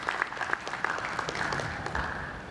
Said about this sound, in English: Please, can we give our speakers another round of applause?